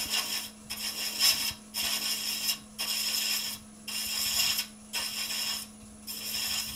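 A thread chasing tool cuts wood on a lathe while a salt and pepper shaker is turned, giving a loud, rhythmic rasping in regular strokes roughly every second over a steady motor hum, with a single spoken word.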